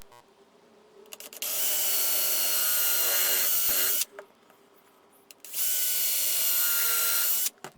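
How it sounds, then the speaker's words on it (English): Two loud bursts of a power drill with a countersink bit running at high speed, each lasting a couple of seconds, separated by a short pause with faint clicks. "So let's drill a couple of holes."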